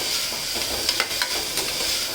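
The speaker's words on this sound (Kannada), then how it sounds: "ಇದೆಲ್ಲ ಒಂದು 2 ನಿಮಿಷ ಚೆನ್ನಾಗಿ ಫ್ರೈ ಆಗಲಿ." Mixed vegetables frying in a pan for vegetable bath, a steady close sizzle with a few stirring scrapes and soft clinks over it.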